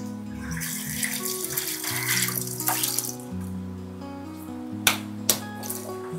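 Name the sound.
washing pressure cooker rubber gasket with cool water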